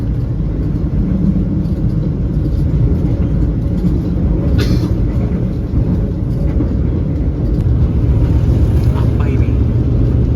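A steady, loud rumble of the Taksaka passenger train rolling along rails between Gambir and Yogyakarta, with a broad low roar and occasional faint clanks.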